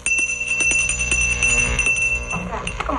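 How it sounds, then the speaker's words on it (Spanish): A bell rings at a hotel entrance with bright, sustained metallic tones and a few quick strikes, over a steady low background rumble. "¿Toca la campana otra vez?"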